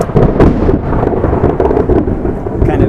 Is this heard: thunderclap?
yes